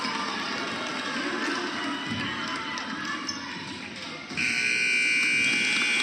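A loud, sustained electronic buzzer blares near the end after the noise of an 8th grade boys' basketball game in a gym.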